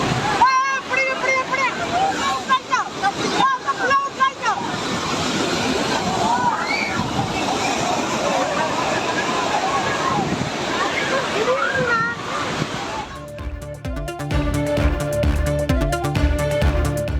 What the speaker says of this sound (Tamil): பழைய குற்றால அருவியில் நேற்று ஏற்பட்ட திடீர் வெள்ளம்